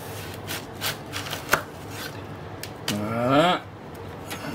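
Knife cutting a watermelon in half, with a few sharp taps of the blade, then a longer grinding slice through the rind and flesh near the end, close and moderately loud.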